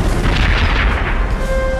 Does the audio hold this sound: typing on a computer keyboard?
no